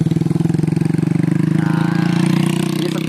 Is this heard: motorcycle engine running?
yes